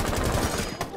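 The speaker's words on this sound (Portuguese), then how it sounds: "Acertei de um tiro." Rapid burst of gunfire from an online shooter game, loud and continuous across a single second with no talk over it.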